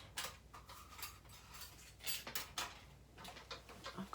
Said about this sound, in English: I've got my big boss die cut machine happening.